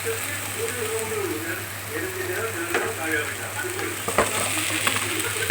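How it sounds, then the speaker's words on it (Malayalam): Tomatoes sautéing with ginger, garlic and onion in a pan for Thalassery chicken dum biryani, a steady close sizzle with occasional scraping stirs, no talk over it. "ഇഞ്ചി, വെളുത്തുള്ളി, സവോളൊക്കെ വഴന്ന് ഇതിലേക്ക് നമ്മൾ തക്കാളിയും കൂടി ഇട്ട് വഴറ്റുകയാണ്"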